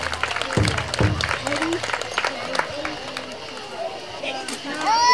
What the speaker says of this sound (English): how about one more big round of applause for Ms. Mary McCormick?